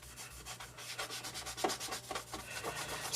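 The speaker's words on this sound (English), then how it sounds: "we'll just hit it with this rubbing compound and clean it up, and then go over to the buffing wheel" Knife blade rubbed with rubbing compound on a reindeer antler knife, a steady back-and-forth scrubbing and sanding friction in repeated strokes, close and fairly quiet, with no talk.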